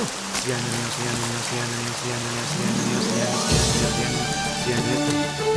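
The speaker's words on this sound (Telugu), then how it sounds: "వర్షంలో తడుస్తూ నిలబడ్డావు" Rain falling steadily beneath a melodic film score with sustained tones, a soft continuous wash of drops that grows slightly louder midway.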